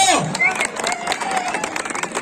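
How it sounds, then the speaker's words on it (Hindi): Crowd at a kabaddi match clapping and cheering in a dense, continuous wash of applause with hubbub and shouts, loud and close throughout. "एक बार जो आईटीबीपी को सपोर्ट करे वह आईटीबीपी के लिए जोरदार तालियां बजा दो"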